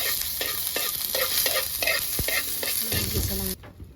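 Food is stirred in hot cooking oil in a wok-style pan over a strong flame while cooking ginisang pako, a loud steady sizzle with rhythmic scraping strokes of the utensil, ending abruptly.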